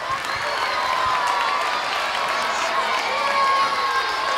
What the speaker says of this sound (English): So big cheer for Manish sir.